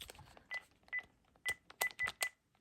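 Keypad tones from a Panasonic KX-TG5583 cordless phone: six short, crisp beeps spaced unevenly over a couple of seconds, close and clear against a quiet room, with no talking.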